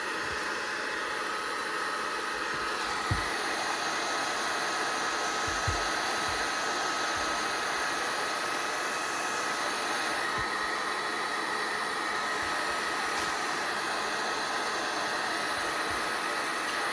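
A Bauer 20-volt cordless heat gun blows a steady, even airy roar that persists unbroken from start to finish, with a few faint low knocks of handling underneath.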